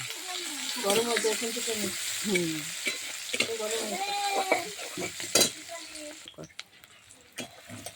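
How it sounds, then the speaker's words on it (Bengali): Garlic and onion fry with green chili in a pan, a close sizzle with scraping stirs and clinks of a utensil, while someone talks over the cooking. "রসুন পেঁয়াজটা ভাজা হয়ে গেছে বন্ধুরা"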